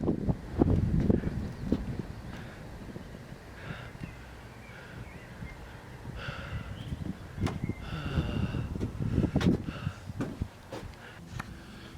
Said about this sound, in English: Now it's becoming somewhat windy